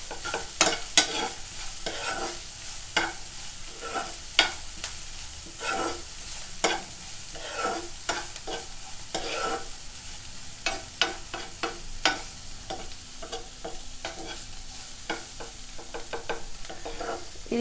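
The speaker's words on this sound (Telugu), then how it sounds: "కొంచెం లైట్గా ఉప్పు, పసుపు చల్లేసుకుంటే ఆనియన్స్ అనేవి తొందరగా ఫ్రై అవుతాయి" Onions frying with salt and turmeric in a pan, a steady close sizzle broken by frequent sharp scraping strokes of a spoon stirring, with no voices.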